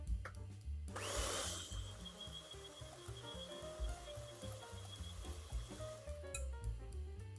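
Sugar-free, gluten-free, flourless chocolate cake batter being beaten with an electric mixer, a steady whirring motor hum running for several seconds after a brief start, close and fairly quiet, with no talking.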